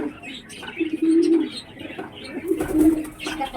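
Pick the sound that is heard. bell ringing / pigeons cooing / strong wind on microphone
pigeons cooing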